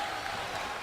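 A large arena crowd at BlizzCon 2011 cheers and applauds loudly during a StarCraft II match, a dense, continuous roar that fills the whole moment.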